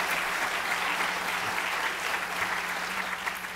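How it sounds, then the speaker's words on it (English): Steady, even applause from an audience at a reunion homecoming event, honoring the alumni relations group and heard at a moderate distance without interruption. "I think we ought to give them a round of applause"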